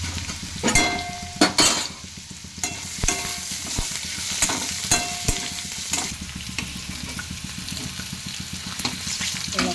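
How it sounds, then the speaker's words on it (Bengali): Potatoes frying in a pan, a loud continuous sizzle broken by repeated clattering stirs and scrapes of a utensil, close up with no talk. "আলুটা ভালো করে ভেজে নিই"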